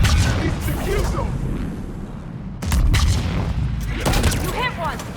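Gunfire booms and rattles in Mass Effect 3 during a battle on Thessia, with loud bursts of shots, a sharp break midway, then more heavy fire under excited voices.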